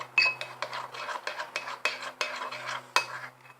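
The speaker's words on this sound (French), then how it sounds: "Donc, je vais le touiller au lait." A spoon stirs chocolate into milk in a cup or pot, scraping and clinking against the sides in quick, uneven strokes, close and clear with a low hum underneath.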